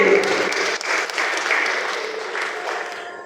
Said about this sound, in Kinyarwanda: amashyi menshi cyane amashyi menshi cyane